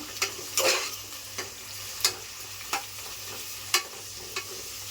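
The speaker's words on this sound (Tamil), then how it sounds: "ஆட் பண்ணிவிட்டு நல்லா வதக்கி விட்டுக்கோங்க." Onions for mutton biryani sauté in a pan, a quiet steady sizzle broken by sharp spoon scrapes and taps at irregular intervals, heard up close.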